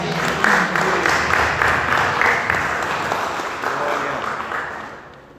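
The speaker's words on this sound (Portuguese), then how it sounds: "Aplauda o Senhor, igreja." A church congregation at a Portuguese-language worship service claps and applauds together, a loud, dense, continuous roar of hands that slowly fades out at the end.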